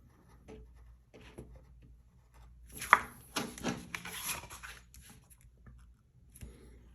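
Scoring fold lines on a folding carton mock-up, quiet scraping and rubbing strokes with a few sharper scratchy bursts in the middle, close and faint, no speech.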